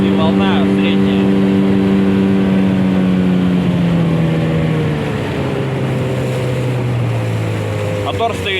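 A Hangkai 9.9 outboard motor drives a boat into a strong headwind over moderate waves, its steady droning engine tone running continuously and close, slowly dropping in pitch, with wind buffeting the microphone and someone talking over it.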